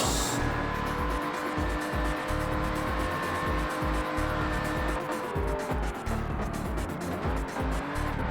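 Car engine from a Lamborghini racing video game, a continuous loud roar with rhythmic revving pulses and shifting pitch as the car drives on, no talk.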